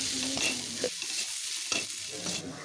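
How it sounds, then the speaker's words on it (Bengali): A spice paste with turmeric is sautéed in a pan, with close stirring scrapes over a crackling fry and brief sizzle bursts each time the spoon moves. No one speaks. "হলুদটা দেওয়ার পর আরও কিছুক্ষণ মশলাটাকে একটু কষিয়ে নিচ্ছি"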